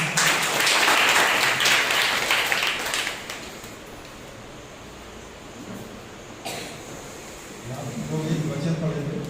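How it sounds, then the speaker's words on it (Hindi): A church congregation at a Sunday service bursts into loud, dense applause that fades into quieter room noise, with a short clatter and then murmuring voices near the end. "भाई की जोरदार तालियां हो जाए"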